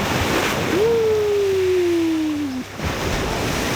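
Sea waves at the beach in Desaru: a broad steady surf wash, with a long sliding tonal whine across the middle and a brief dip before the waves surge again.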